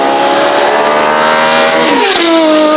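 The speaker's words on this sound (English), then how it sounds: "If you haven't yet heard an 812 super fast GTS and Largo with a Novitec exhaust system, you probably haven't been born yet." A Ferrari 812 Superfast GTS with a Novitec exhaust revs loudly and close, its high V12 wail holding steady and then dropping in pitch as the throttle eases.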